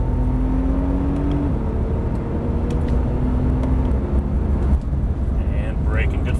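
A Porsche 911 Turbo accelerates on a race track, its engine a loud, steady drone rising in pitch from inside the cabin, with an instructor's voice talking over it.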